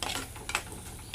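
Onion, green chili, curry leaves and tomato being stirred as they fry in a pan for a homestyle crab curry, giving a soft, steady sizzle with a few scraping stir strokes, quiet and close, with no talking.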